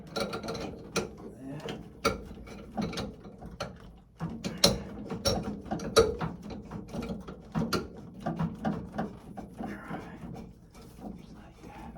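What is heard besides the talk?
ratchet turning nut on boiler 3-way valve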